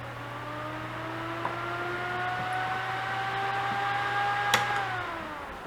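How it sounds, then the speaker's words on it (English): A CPU cooling fan in a desktop PC built on a new motherboard with 15-year-old hardware spins up to a loud, steady whir that rises slightly in pitch, holds, then drops near the end, heard alone and close. "I think the CPU is getting a little too hot because the fan just had some fun there."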